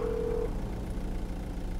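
A phone call is dialed in the video game GTA 5, with a short steady tone at the start over a low engine-like hum that continues to the end.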